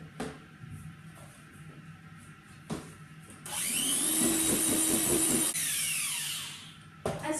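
An electric hand mixer runs loudly for a few seconds in cake batter for a checkered cake, preceded and followed by quieter kitchen clatter; a steady whirring drone that stops abruptly.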